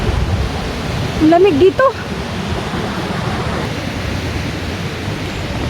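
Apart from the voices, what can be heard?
river flowing in Tordai-hasadék gorge, Romania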